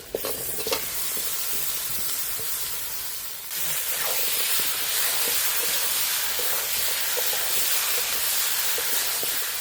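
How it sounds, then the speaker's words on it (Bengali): Duck meat frying in a pan with onion and garlic paste for homemade duck curry, a dense, steady sizzle with occasional stir clicks that swells louder partway through, close and with no talking. "মাংসটা ভেজে দিলাম, জাকনি দিয়ে উঠে নিলাম। মাংসটা ভাজা উঠেছে"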